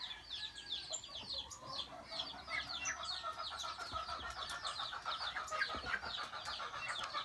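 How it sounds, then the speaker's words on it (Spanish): A flock of birds gathering to feed at breakfast time, giving busy, overlapping chirps and clucking calls in a continuous chatter, faint and slightly distant, with no one talking. "Y los pájaros pues están bien, vienen a comer, ¿verdad?"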